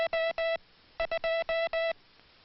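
Morse code tapped out on a properly adjusted hand key: crisp, steady tone pulses in clean dots and dashes, an even burst, a brief gap, then a longer run of evenly spaced characters, heard close and clear with no talk.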